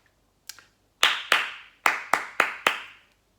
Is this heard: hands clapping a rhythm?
yes